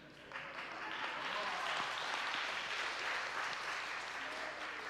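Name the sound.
audience clapping hands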